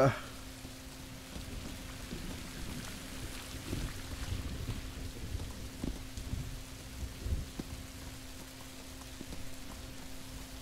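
Rain with low rumbles of thunder in the survival game Rising World, a steady wash of rainfall with soft intermittent booms, fairly faint and continuous throughout.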